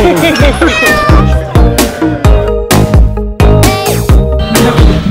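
Cats meow repeatedly and loudly up close aboard a cat boat in Amsterdam, with the cries overlapping one another in a busy, insistent chorus.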